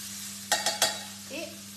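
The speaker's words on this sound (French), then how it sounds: "On va mélanger un petit coup." Stuffed pasta filling with ham being stirred in a pan, three quick scraping strokes in a row, then a softer brief scrape, over a steady low hum.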